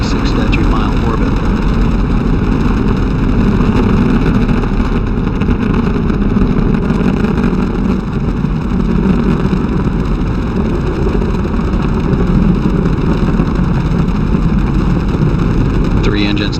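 Space Shuttle Endeavour's engines roar during its final launch on STS-134, a loud, continuous broadband rumble that is steady for the whole stretch, with a faint announcer voice underneath.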